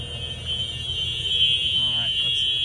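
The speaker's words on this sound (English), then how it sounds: "Open up your emergency hatch. Get all the wonderful buzzers and everything there." A steady high-pitched emergency hatch buzzer on a 2021 Thomas EFX school bus drones continuously, with a low engine rumble underneath and a voice talking briefly.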